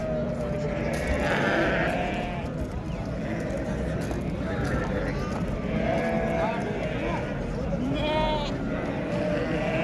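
Rams, sheep and goats bleat at a busy Uzbek livestock bazaar, several calls rising over a constant crowd murmur of people talking and haggling, with a hint of hooves.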